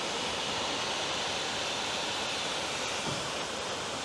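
A small waterfall beneath a canal trail rushes in a steady, broad wash of falling water, loud and close, continuous without pause.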